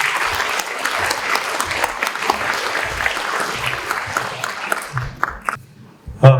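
A crowd applauds steadily at a gubernatorial candidates' social welfare policy debate, dense clapping that tapers off near the end.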